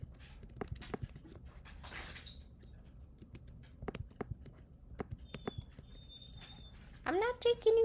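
A pet dog making odd noises indoors: scattered soft patters and clicks, a few thin squeaky whines, then a burst of yelping, whiny vocalizing near the end, close and fairly quiet.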